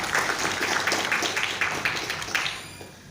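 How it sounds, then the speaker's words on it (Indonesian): Crowd applause for a speaker at an Indonesian Persib supporters' club anniversary gathering, a steady burst of many hands clapping for a few seconds, fairly close and fading slightly at the end. "Tepuk tangan buat Om Deki ya tuh."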